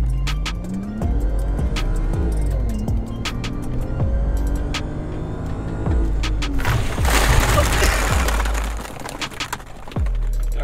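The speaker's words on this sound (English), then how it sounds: "get the car up to 60, 70 to have to slam on the brakes" A BMW 335i (E92) engine revs and accelerates steadily, then tires squeal and scrub under hard braking from around 60-70 near the end, loud and close.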